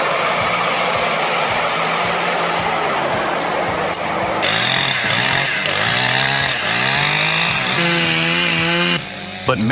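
Large forestry chainsaw machine, a harvester head paired with a Palms trailer and crane, cutting through wood: a loud, continuous roaring saw whine whose pitch bends and wavers as the chain bites, ending abruptly.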